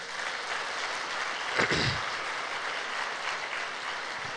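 A congregation applauds during a Sunday church service: a steady wash of clapping fills the room, swelling briefly in the middle, with no voices standing out.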